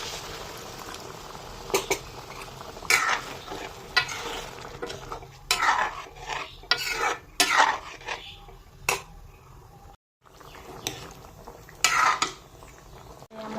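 Boiled chickpeas and potatoes stirred in a pan after spice water is added, giving a close, irregular series of scraping and clattering strokes over a low simmering sizzle.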